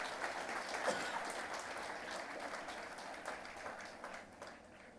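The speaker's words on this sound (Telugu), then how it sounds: "మీరు వాళ్ళని అభినందించడానికి చప్పట్లు కొట్టాల్సిందిగా" An audience at a public event with Chief Minister Revanth Reddy claps together. The applause is dense, continuous and crowd-wide for about five seconds and slowly tapers off slightly.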